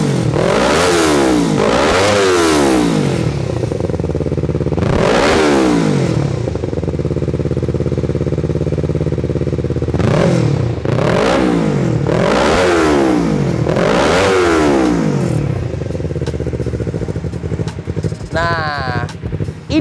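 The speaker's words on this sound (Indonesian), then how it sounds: "kalian bisa langsung dengerin idle-nya kayak naik turun" Yamaha R25 motorcycle fitted with a Pro Speed carbon-pattern full-system exhaust, idling close by with a loud engine note that surges up and down in repeated waves.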